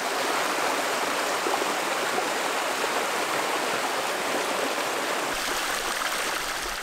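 The Brive river stream in calm green woods near a waterfall, a dense, steady rush of flowing water that fills the whole span without a break, close and even in loudness.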